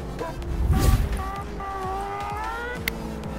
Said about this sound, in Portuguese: Moto tem ronco, beleza?